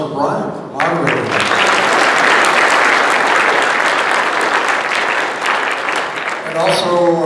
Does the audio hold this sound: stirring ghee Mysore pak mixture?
no